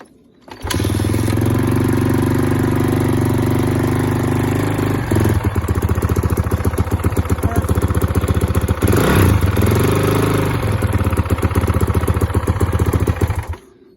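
A motorcycle, just back together after a water pump repair, cranks and fires up, then runs with a steady, close, loud idle and a few blips of the throttle, with no voices over it.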